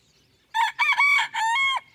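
A Sebright bantam rooster crows once, close and loud, a bright multi-part cock-a-doodle-doo of about one and a half seconds on a quiet rainy morning.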